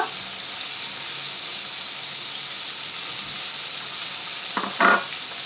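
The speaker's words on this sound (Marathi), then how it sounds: "स्वतः हा बटाटा मी ॲड करते ह्याच्यामध्ये मी इथे कच्चा बटाटा चिरून घेतलाय बारीक" Chopped raw potato goes into a hot pan of oil for a fasting-day potato bhaji, giving a steady broadband sizzle with a short burst of stirring clatter near the end; no talking.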